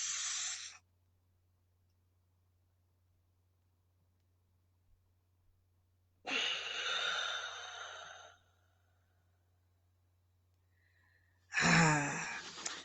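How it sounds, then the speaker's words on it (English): Slow breathing exercise: a loud close inhale, a long silent hold, then a drawn-out exhale, and the cycle begins again with another sharp intake of breath. "Breathe in for 4 seconds, hold for 7 seconds,"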